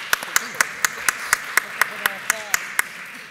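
Clapping at a school board meeting comes as about a dozen sharp, evenly spaced claps, steady and fairly close, with faint room murmur beneath.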